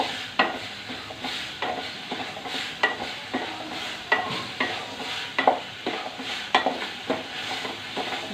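Lentils for dal bhuna frying in plenty of oil while a spoon stirs them, a continuous sizzle punctuated by rhythmic scraping strokes against the pan, close and without talk.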